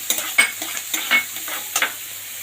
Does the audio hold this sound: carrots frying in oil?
yes